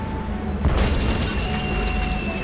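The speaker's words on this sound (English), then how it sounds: "Hey, it's one of those spiffy new Hungarian easy-action cannons I've been begging Elaine to let me buy." A cannon booms in the Tales of Monkey Island pirate adventure game, one loud blast rising out of steady background noise and leaving a rumbling tail.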